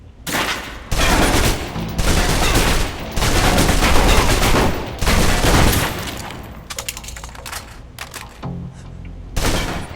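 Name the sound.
submachine gun firing a full clip in the video game Alpha Protocol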